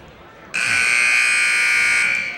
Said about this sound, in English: And so is the buzzer, by the way.